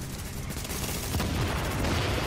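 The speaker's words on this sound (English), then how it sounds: "Hitting him with explosive bullets." Explosive-round gunfire in Tom Clancy's The Division, a loud, dense, continuous stream of shots and blasts during a boss fight, with no pauses.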